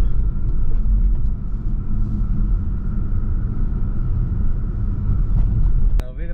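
A car driving through the streets of Mexico City gives a steady low engine rumble and road noise from inside the cabin, continuous and fairly loud, with a brief sharp chirp near the end.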